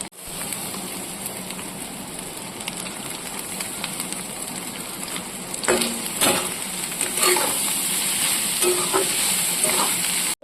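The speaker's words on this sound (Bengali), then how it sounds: "সবজি ডিম সব ভাজা হয়ে গেছে, এইবারে আমি ভাতটা ছেড়ে দেবো।" Leftover rice is stir-fried in a pan with eggs, vegetables and chilli powder. A loud, constant sizzle runs throughout, and clattering scrapes and stirring strokes grow busier in the second half, with no speech.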